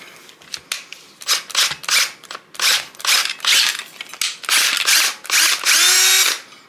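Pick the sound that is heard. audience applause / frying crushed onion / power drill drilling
power drill drilling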